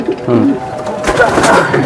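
Racing pigeon at a loft cooing in short, close bursts, mixed with nearby talking voices throughout.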